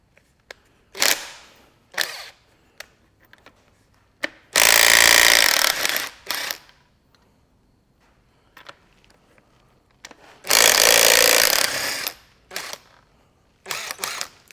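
Impact wrench removing connecting rod cap nuts on a Massey Ferguson 65 tractor engine: two loud, sustained rattling bursts of a few seconds each, separated by quieter clicks and the clink of tools, with no talk.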